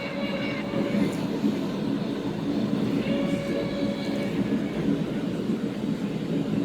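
A model E.J.&E locomotive pulls a manifest train at a scale train show, a continuous rolling rumble with faint clicking rail noise and general hall ambience.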